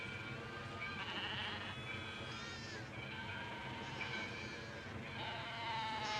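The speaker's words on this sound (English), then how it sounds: "What is it? A Judas goat." A Judas goat bleats repeatedly in a busy livestock setting, its wavering cries rising over a dense, steady background of other animals, heard clearly and fairly close.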